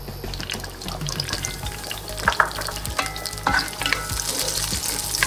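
Fresh smashed garlic sizzles steadily in leftover eggplant oil in a pan, a continuous crackling fry with a few sharper pops and stirring clicks, close and fairly loud with no talking.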